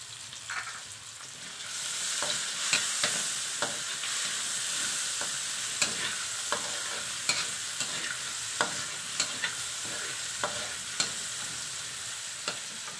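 Adobong pusit cooking in a pan, with a steady loud sizzle throughout and sharp scrapes and clacks of a utensil striking the pan at irregular intervals, no voices.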